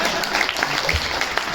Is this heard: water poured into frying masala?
no